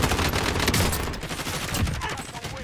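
Rapid gunfire rattles on in Warzone, a dense, loud string of shots throughout the short stretch, with a voice faintly underneath.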